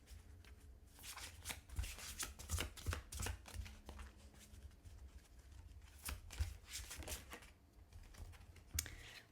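Tarot cards being shuffled by hand, a close, quiet run of riffling and slapping bursts repeating irregularly throughout, with no talking.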